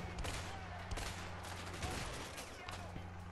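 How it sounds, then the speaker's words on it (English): Gunfire in the video game A Way Out, a dense, steady fusillade of shots striking the player from behind amid a constant loud background, with short bursts standing out. "I'm getting shot in the back now"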